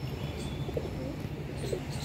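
Racing pigeons come in to land at a tournament loft in Kalpi, with soft coos and faint chirps over a steady outdoor background hum throughout.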